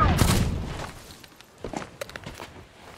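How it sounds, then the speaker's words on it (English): Cannon fire in the pirate video game Sea of Thieves: a heavy booming blast at the start that fades out, then scattered thuds and clatter close by. "You're trying to blow me up with cannons!"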